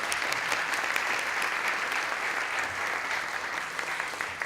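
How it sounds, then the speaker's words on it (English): Audience at an arts education partnership launch event breaking into sustained applause, a thick, even wash of clapping from many hands with no speech over it. "A round of applause, the most significant partnership ever."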